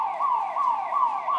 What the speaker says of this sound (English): I feel like we're getting closer to the siren sound instead of further away from it.